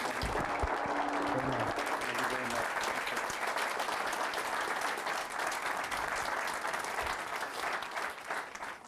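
An audience at a speaking event in Portsmouth greets retired Brigadier General Don Bolduc with sustained, dense applause that stays loud and steady, with a few voices mixed in.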